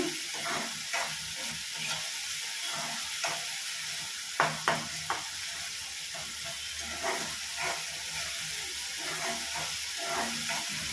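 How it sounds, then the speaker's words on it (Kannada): Tomatoes frying in oil for chicken sukka make a continuous close sizzle with a soft hiss, and scattered light scraping taps come from stirring. No one speaks. "ಇವಾಗ ಇಲ್ಲಿ ಟೊಮ್ಯಾಟೊ ಒಂದು ಸ್ವಲ್ಪ ಕರಗಿ ಬೇಯಬೇಕು ಆವಾಗ ಇದು ತುಂಬ ಚೆನ್ನಾಗಿರುತ್ತೆ"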